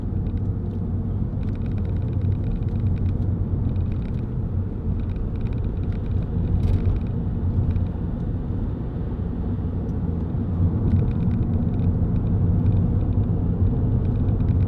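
A 2008 Vauxhall Zafira 1.9 CDTi 16v SRi diesel fitted with a tow bar hums through a road test drive, a long, steady low rumble of engine and road noise heard from inside the car.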